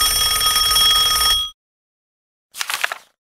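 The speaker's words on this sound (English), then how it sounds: "Suddenly, the phone rang." Cartoon telephone bell rings loudly and steadily for about a second and a half, stops, then after a pause gives a second shorter trilling burst, alone with no voices.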